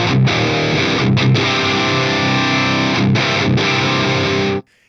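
Distorted electric guitar played through a Fractal AX8 amp modeler with the treble raised to 6, loud, sustained overdriven chords with a couple of brief breaks, ending abruptly in silence.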